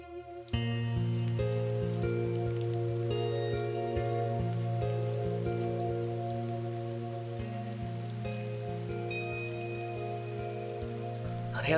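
Steady rain falls onto surfaces in a dense, even patter, staying moderately loud and unbroken under a sustained tonal background throughout.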